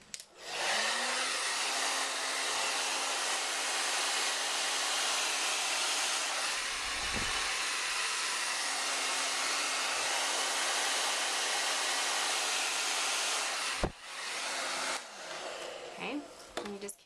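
A handheld hair dryer blows steadily and loudly while a round brush works through a section of hair to create curl at the ends, with a brief dip near the end before the airflow resumes.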